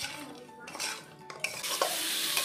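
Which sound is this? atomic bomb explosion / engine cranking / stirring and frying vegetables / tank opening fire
stirring and frying vegetables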